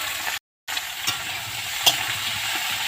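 Soaked cauliflower florets fry in hot oil in a pan, giving a steady, even sizzle with faint stirring clicks, broken by a brief moment of silence.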